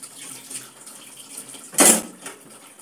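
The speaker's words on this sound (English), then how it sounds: "So for me, I love washing one at a time." A single spoon is rinsed under a running kitchen tap, with a quiet, steady trickle and one brief, louder gush of water near the end.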